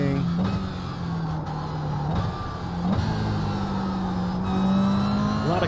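A Toyota GR86 in iRacing at Laguna Seca, its engine braking and coasting into a corner: a steady droning engine tone that dips and shifts pitch as it slows, loud and continuous throughout.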